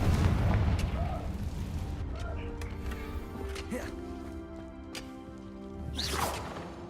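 Confringo fire spell cast in the Hogwarts Legacy video game, a whooshing blast and boom that rings out amid layered game music and ambience, with a second swelling whoosh near the end.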